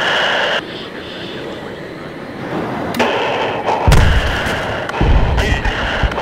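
Heavy bomb blasts in the military shooter Battlefield 3, two deep booming impacts landing about a second apart over a steady aircraft drone, with radio-style chatter in the background.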